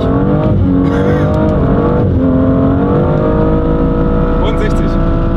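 An Audi, BMW or VW accelerating hard on a snowy road during a 0-60 test: a loud, continuous engine drone climbs in pitch through the gears, heard from inside the car.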